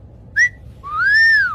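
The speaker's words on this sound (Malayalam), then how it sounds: "വിസിൽ വിഴുങ്ങിയ" A high whistling sound comes from someone who swallowed a whistle: a brief short whistle, then a longer rising and falling whistle, loud and close.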